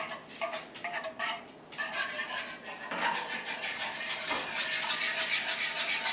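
Chocolate sauce for a healthy chocolate peanut butter pie whisked in a bowl, rapid rhythmic scraping and swishing strokes, close up, with brief pauses early and then continuous vigorous mixing.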